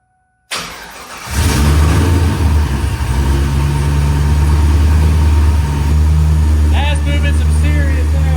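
A car with a newly fitted supercharger, its piping disconnected, starts up and runs with a loud, steady engine roar and strong low rumble, plus a whining rise near the end.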